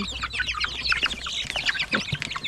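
Chickens cluck busily while feeding on a rural farm, a close, irregular stream of short clucks and chatter that overlap throughout, with no talk.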